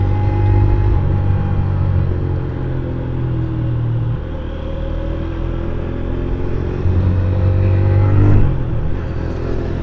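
A motorcycle engine runs with a deep, loud rumble that swells as it revs and accelerates along a straight road, holding a strong steady drone with rising pitch toward the end.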